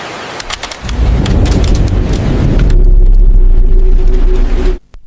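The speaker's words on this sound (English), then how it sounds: "Rain pounds against the windows" Heavy rain pounding against office windows roars steadily with deep rumbling underneath, loud and continuous, before cutting off abruptly at the end.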